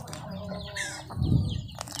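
Chickens cluck softly nearby, with a brief rustle of movement and a low burst of sound midway.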